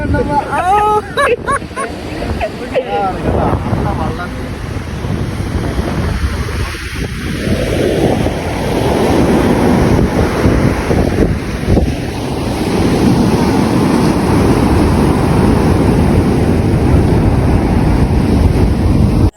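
Sea waves surge and break on a beach at Tirur in Malappuram, a loud rolling wash that builds and sustains for many seconds, with people talking and calling out near the start.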